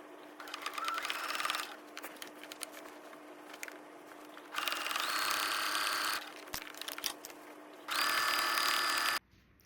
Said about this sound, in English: Now you're just gonna go through and sew a top stitch right around this edge.